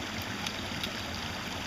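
Creek water flows steadily around someone standing in the stream while gold prospecting, a constant close babbling wash with small bright splashes, moderately quiet and without speech.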